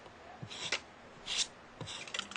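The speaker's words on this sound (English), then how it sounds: "So the first thing I'm going to do is cut away my seam allowances." Scissors cut away fabric seam allowances in a few close, quiet snips and rubs spread over a couple of seconds, with no voices.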